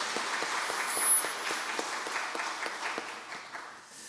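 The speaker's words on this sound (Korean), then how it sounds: "우리 박수 한번 해주겠습니다." A church congregation gives moderate applause for the children of the church school during a Korean prayer service, fairly sparse, distinct claps in a loose rhythm, somewhat distant, fading slightly toward the end.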